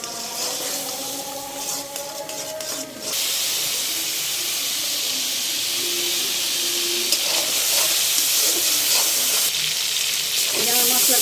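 Small shrimp with turmeric, chilli powder and spices fry in a pan for a taro leaf dish, a loud, steady hiss and sizzle with steamy bubbling, briefly quieter at first and then constant with faint stirring scrapes.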